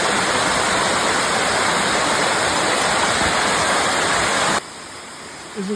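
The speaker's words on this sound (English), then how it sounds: "This is Lost Creek Falls in northern Wisconsin." Lost Creek Falls, a waterfall in northern Wisconsin, roars as a steady, loud broadband rush of falling water that fills the scene, cutting off abruptly near the end to a quieter background.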